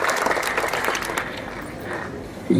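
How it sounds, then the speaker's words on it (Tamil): An audience at a Tamil film audio launch event claps steadily, a dense wash of applause from a large crowd that carries through the whole moment and swells slightly near the end. "பாரதி ராஜா சாருக்கு நாம் ஒரு பலத்த கைத்தட்டல் கொடுத்து வரவேற்போம்."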